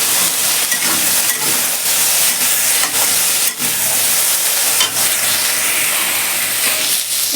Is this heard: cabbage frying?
yes